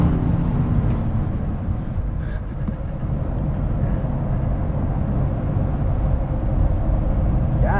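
A 2024 Honda Passport Trailsport accelerates through a corner, its engine a steady low drone blended with road and wind rush, heard from inside the cabin with no distinct peaks.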